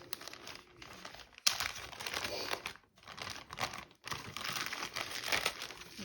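A plastic package being opened close up, with bursts of crinkling and rustling that stop and start again after short pauses, fairly quiet, with no talk.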